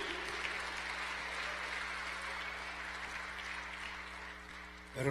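A church congregation claps steadily for the Lord during a Spanish-language sermon, a dense, even wash of applause from many hands that holds through and swells at the very end.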